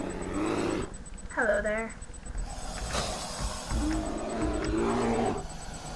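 Bears in the Minecraft Mo' Creatures mod let out deep, growling roars, one fairly loud and others rumbling, mixed with someone talking throughout and a brief high animal call.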